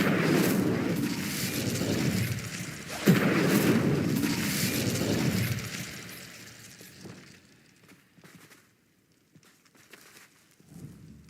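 Spell blasts from the Confringo fire spell in Hogwarts Legacy, two heavy booming explosions roughly three seconds apart with a crackling fiery roar. The roar fades after about six seconds, leaving scattered faint pops and crackles.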